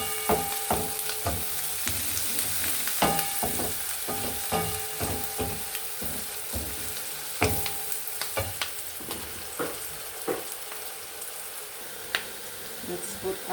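Onions frying in a pan until golden brown, sending up a constant crackling sizzle while a utensil scrapes and taps the pan again and again in an irregular rhythm.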